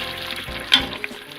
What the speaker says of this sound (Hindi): गोश्त गल गया है, अब इसकी भुनाई करेंगे।